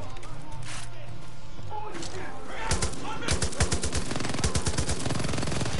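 Gunfire in the video game Far Cry 5, with rapid bursts of automatic shots rattling out in quick rhythmic volleys through the second half, loud and close over a busy game background.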